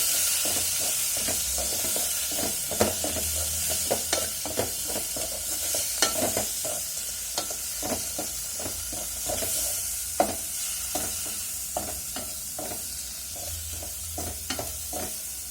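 Oil sizzles steadily as eggplant is fried with salt for a dried fish curry, with a continuous hiss broken by frequent clicks and scrapes of stirring throughout.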